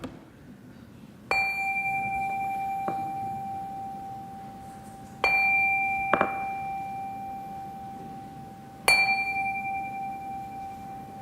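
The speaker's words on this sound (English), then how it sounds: "let us settle our minds and calm our hearts with the ringing of our chime" A meditation chime rings out three times during a Unitarian Universalist Sunday service, each clear metallic strike followed by a long, slowly fading sustained tone in a quiet hall.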